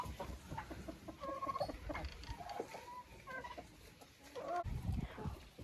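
A small flock of backyard hens fed on mixed grain clucks and cackles in uneven bursts, fairly close, with one louder squawk near the end and a rustling barnyard murmur throughout.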